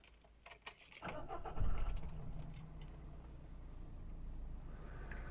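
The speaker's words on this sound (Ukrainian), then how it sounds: "І давайте я вам заведу його." A 2008 Subaru Forester engine cranks and catches, then settles into a steady idle after a brief jingle of keys.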